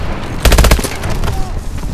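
Automatic gunfire in Call of Duty Advanced Warfare: a loud, tight burst of about five rapid shots with heavy low-end thump, followed by a decaying tail.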